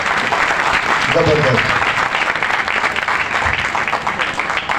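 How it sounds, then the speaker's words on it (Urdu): A church congregation applauds, steady dense clapping throughout a few seconds while a preacher speaks over it. "اپنے لیے تالی بجائے۔"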